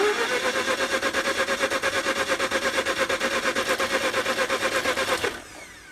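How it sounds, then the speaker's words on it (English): A Mazda RX-8 rotary engine cranks on the starter in a steady, even, pulsing whir for about five seconds, close and loud. It stops abruptly without catching. "crank it one more time to clear the lines"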